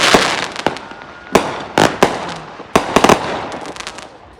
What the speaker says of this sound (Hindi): ये लोग जाके फायर वर्क करते हैं